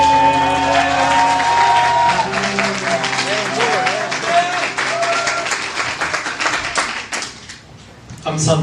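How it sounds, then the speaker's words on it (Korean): Church congregation applauding during a Korean sermon, a dense, steady wash of clapping from many hands that thins toward the end, with singing or music and a voice mixed underneath. "박수 치시는 누구예요?"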